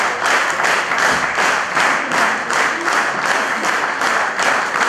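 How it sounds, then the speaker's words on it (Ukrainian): An audience at an anniversary concert gives a stormy ovation after a performance: dense, loud, sustained applause with a rolling rhythm, continuous throughout with no talking. "За виступ глядачі дарували виконавці квіти та бурхливі овації."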